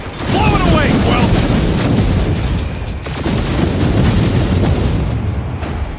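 Gunfire and blasts from the Guardians of the Galaxy video game as debris is shot away outside, a loud, dense barrage of booms and mechanical noise running continuously with game voices talking over it.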